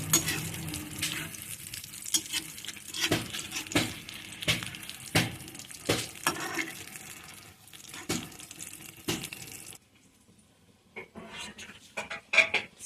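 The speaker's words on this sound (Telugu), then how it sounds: "మీడియం ఫ్లేమ్లో వేయించుకుందాం నిదానంగా రెండు వైపులు కుంటు కాల్చుకుందాం" Sweet potato poornam frying slowly in oil over a medium flame, a steady sizzle with frequent stirring clicks, dropping to near silence before a few final scrapes.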